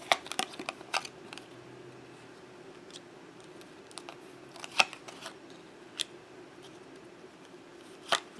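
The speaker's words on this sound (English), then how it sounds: "I'm gonna pull like maybe two cards on this." Tarot cards are shuffled and drawn for a reading, giving sharp, close papery snaps and flicks at irregular intervals over a quiet background, with no talking.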